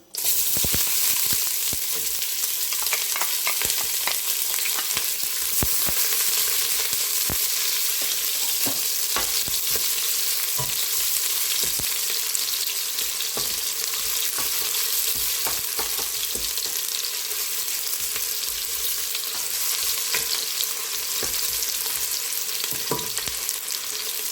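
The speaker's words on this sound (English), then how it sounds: "Allow to sizzle. Then my onion." Onions sizzle steadily in a hot frying pan, a constant close crackle with occasional sharper pops and stirring clatter, no voices.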